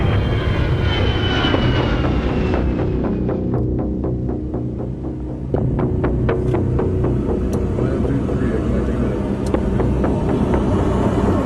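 A loud, steady jet engine roar with a throbbing hum, sustained throughout with a brief dip in the middle, close and dominant.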